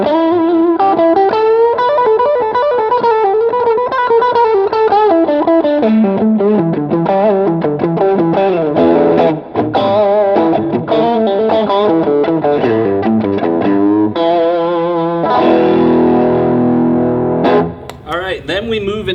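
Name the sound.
Fender Deluxe Nashville Telecaster electric guitar played with distortion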